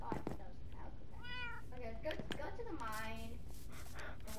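A calico cat in Minecraft gives repeated meows under people talking over a game soundtrack.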